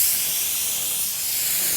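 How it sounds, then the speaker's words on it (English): A spray gun applies clear coat in a continuous, even, bright hiss of atomized spray, loud and close, steady throughout with no talking. "90 degrees from the gun to the part that you want to spray."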